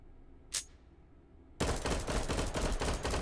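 Rapid gunfire in the VR shooter Hot Dogs, Horseshoes & Hand Grenades: a brief sharp click, then a sudden dense, continuous burst of automatic shots, loud and close.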